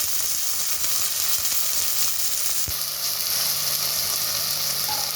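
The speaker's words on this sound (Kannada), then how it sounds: "ಹಸಿ ಬಟಾಣಿ ಹಾಕ್ತಾಯಿದ್ದೀನಿ. ಕಟ್ ಮಾಡಿರೋ ತರಕಾರಿ" Fresh peas and chopped vegetables fry in a hot pan with a steady, dense sizzle throughout, close and continuous, with a single sharp clink midway.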